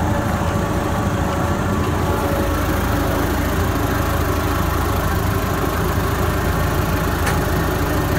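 A 1960s tractor engine running steadily and loud at close range, a continuous low rumbling drone with throttle easing off early and settling into a steady idle-like hum.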